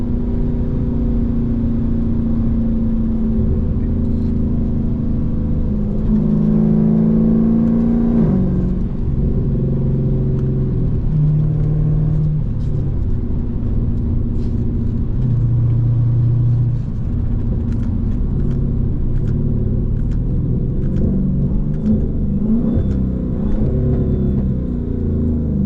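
A Dodge Scat Pack 392 V8 rumbles loudly throughout an early-morning drive, its deep exhaust note rising and falling as it revs and accelerates, heard from inside the car with steady road and engine roar.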